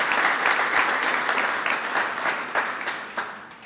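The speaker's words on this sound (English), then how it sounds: "Would you all join me in giving a vigorous round of applause" An audience at a Cinco de Mayo reception applauds a newly introduced Secretary of Labor with dense, steady clapping throughout, gradually softening toward the end.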